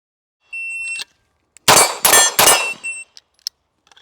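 A steady electronic beep is followed by three rapid, loud metallic gunshot impacts ringing off steel plate popper targets, with a few faint trailing clinks afterward.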